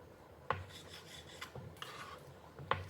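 A knife cuts tomatoes into small pieces on a board for tomato juice, giving a few soft knocks spaced about a second apart amid quiet rasping strokes, close and faint, with no talking.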